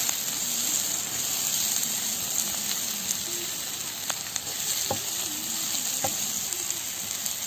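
Dried shrimp fry in oil in a pan, a close, continuous dense sizzle with occasional small pops and stirring scrapes throughout.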